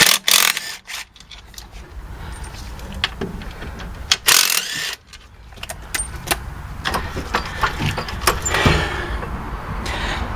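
Ratchet working loose the lower bolts on a 4T65E transmission held up on a jack, a series of close, sharp clicking bursts with metallic clanks and pauses between, no talking.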